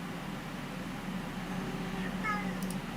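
A cat meows indoors, a short harmonic cry late in the clip over a steady background hum.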